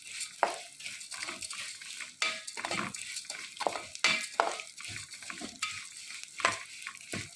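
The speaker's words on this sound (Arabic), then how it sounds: "هنبدأ بقى نحمرها لحد ما يبقى لونها ذهبي، ونستمر في التقليب" Vermicelli frying in a pan until golden while a utensil stirs it steadily: repeated scraping strokes and clatter over a soft, continuous sizzle, close and moderately quiet.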